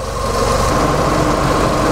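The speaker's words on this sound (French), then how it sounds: "le moteur est bien chaud, vous voyez il y a le ventilateur qui est en route, vous l'entendez aussi" A warm Ford Mustang engine idles with its radiator cooling fan running, a close, steady low rumble and whir that holds constant throughout.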